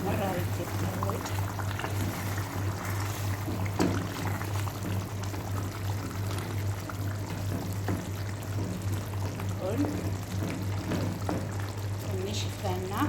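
Water pours steadily into a cooking pot of Ethiopian kuttra wot stew with onion, ginger and garlic, a continuous liquid rush with a faint simmering undertone and a voice in the background.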